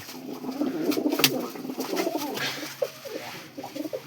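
Pigeons coo repeatedly in low, throaty bursts with flapping and scuffling, close and busy, as several birds jostle.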